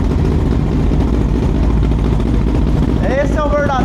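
A Honda CB 300 two-cylinder motorcycle engine with carburetors runs after assembly, a loud, close, steady low rumble throughout, with a brief voice-like whistle near the end.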